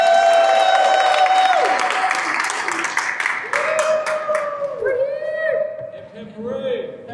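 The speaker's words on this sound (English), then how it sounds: "Let's take a round of applause for everyone here showing up today" An outdoor gathering of hemp growers and advocates at the Illinois Capitol breaks into applause and some cheering, with whistles or tonal sounds and voices mixed in, loud and close, tapering off toward the end.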